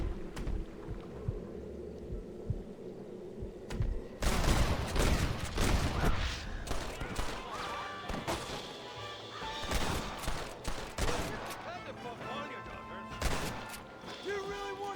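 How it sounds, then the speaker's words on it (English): Enemies fire down from the top of a cliff in Red Dead Redemption, a loud, dense burst of rapid gunshots and crashing impacts after a quieter stretch of scattered single shots. "They're shooting down on us!"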